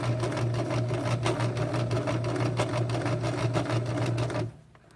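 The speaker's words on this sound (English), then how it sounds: "And now I'm going to sew all the way across the piece, taking it nice and slow" A sewing machine stitches slowly across fabric for a beginner tote bag, a close, steady mechanical whirr with rapid rhythmic needle clatter that cuts off abruptly just before the end.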